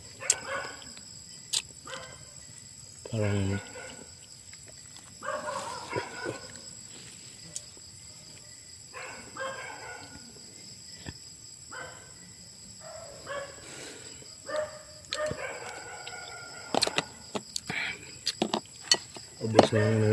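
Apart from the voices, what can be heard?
dogs barking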